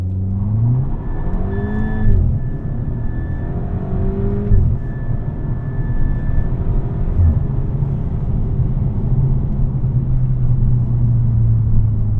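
A VW Mk6 Golf GTI with a DSG gearbox pulls hard along a smooth road. The engine note climbs in rising sweeps broken by quick gear shifts, then settles into a steady cruising hum, heard from inside the cabin.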